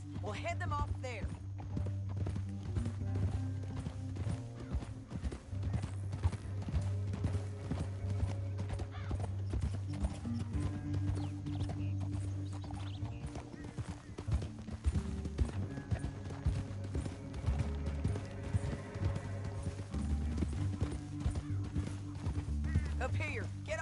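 Horse hooves clip-clop steadily in Red Dead Redemption 2, with occasional whinnies, layered under a dense, continuous game music bed and intermittent spoken dialogue throughout.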